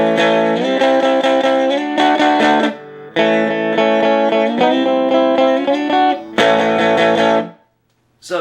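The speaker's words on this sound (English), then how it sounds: "When you slam those chords, it automatically goes up in distortion like a tube amp does" Electric guitar chords are slammed through a solid-state amp, loud and sustained with distortion building on the hard strums, in several long strummed bursts separated by short breaks.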